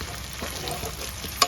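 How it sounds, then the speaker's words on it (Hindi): Chilies, tomatoes, garlic, onion and ginger fry in oil in a kadhai, giving a close, steady sizzle with stirring scrapes and a sharp clink near the end. "अब इन सारी चीज़ें ना मैं थोड़ा सा उसमें फ्राई करूँगी।"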